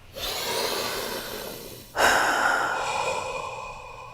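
A single big, deep breath: a long audible inhale followed by a slower, sighing exhale, close and alone with no talking.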